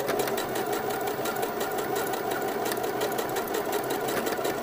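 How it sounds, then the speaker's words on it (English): A sewing machine stitching a men's shirt made from McCall's 6972 hums in a steady, fast mechanical whir with a rapid needle rhythm, running continuously at a moderate, fairly quiet level with no voices. "Put my needle down and press start on my machine."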